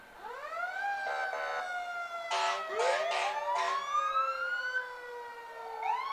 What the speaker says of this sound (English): I've learned they no sense trying to battle with these sirens.